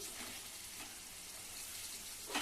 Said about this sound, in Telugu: ఇప్పుడు ఒక్కొక్కటిగా అన్ని ముక్కల్ని చేపల ముక్కల్ని వేసుకోవాలండి